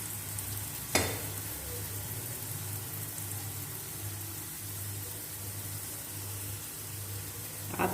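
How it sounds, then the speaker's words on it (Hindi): Aloo paratha frying in a pan, giving a steady bright sizzle and hiss throughout, with a sharp knock near the start and another at the end, and no voices. "और इसको करेंगे फ्राई"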